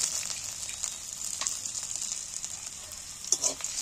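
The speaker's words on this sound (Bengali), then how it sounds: "এই আদা রসুন কুচোনাগুলো প্রথমে আমি তেলে তুলে দিচ্ছি।" Chopped ginger and garlic sizzle in hot oil with a bright, steady crackle, broken by a few louder spits and a brief stirring knock near the end.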